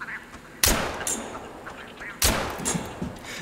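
Two loud drilling rifle gunshots in the hunting game theHunter: Call of the Wild, each a sharp blast about one and a half seconds apart with a rolling echo that decays slowly, and faint calls of ducks or geese audible between them.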